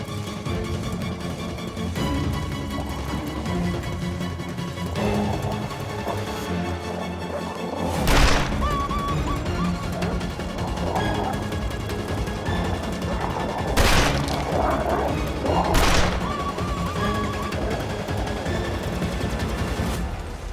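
Gunfire in the video game The Long Dark, several sharp, loud shots spaced seconds apart, cracking out over a dense bed of game ambience and music.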